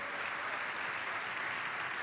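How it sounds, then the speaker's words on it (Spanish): A church congregation applauds with a steady, dense wash of clapping that stays even and continuous throughout, heard at a moderate distance. "Aplauda al Rey soberano"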